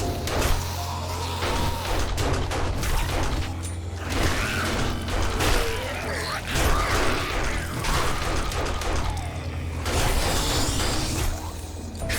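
Lockpicking in the game 7 Days to Die, with steady mechanical clicking and ratcheting of a lock mechanism that runs throughout over a constant low background hum.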